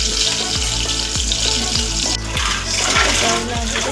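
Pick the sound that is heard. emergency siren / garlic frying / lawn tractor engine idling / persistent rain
garlic frying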